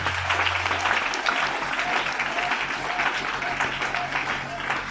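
Congregation at an evangelical church sermon applauding and cheering for Jesus, a dense, steady wash of clapping and voices that stays loud throughout.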